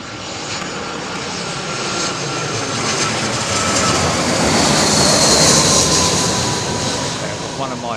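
An ATR turboprop arrives at London Heathrow, its engine drone rising gradually to a loud peak near the middle and then fading slightly, with a higher whine over the broad rumble.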